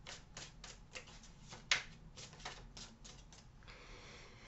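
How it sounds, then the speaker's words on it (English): Tarot cards pulled and shuffled from a deck, a run of quick crisp flicks and snaps, close and quiet, with one sharper slap midway. "Let's pull three cards for them."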